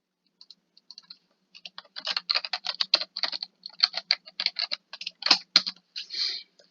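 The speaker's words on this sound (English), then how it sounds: "in your preferred browser, you're going to type in minnesota.edu" Computer keyboard keys clatter close by, a few scattered taps at first, then quick bursts of typing with short pauses, ending in a longer final keystroke, with no voices.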